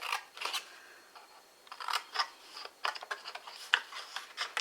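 Scissors snip through paper card in a run of short, close cuts with small pauses between them, while making a tea and candle gift box.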